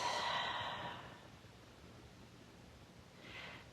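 A slow, deep breath taken close by during a yoga session: a long airy inhale or exhale at the start, quiet breathing after, and a softer breath near the end.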